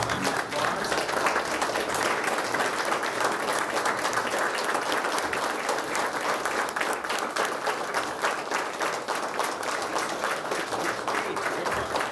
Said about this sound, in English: Let's all stand and give Lucy applause.